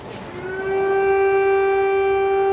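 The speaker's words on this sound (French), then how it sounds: "Au centre-ville, les sirènes d'alerte ont retenti ce matin." An air raid warning siren sounds over central Kyiv during the war in Ukraine, rising into a loud, sustained wail that holds a steady pitch.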